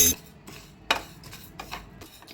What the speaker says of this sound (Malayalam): ഈ ജീരകം നമ്മൾ നന്നായിട്ട് വറുത്തെടുത്തു കേട്ടോ